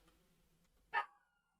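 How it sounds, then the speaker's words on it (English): A single short, sharp bark from a dog rings out in a quiet indoor room, fairly close and clear against faint background hum. "that's my dog"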